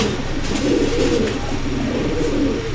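A pair of silver line pigeons, including a male, coo softly in repeated low, throaty calls close by, with a steady background hiss and no talk.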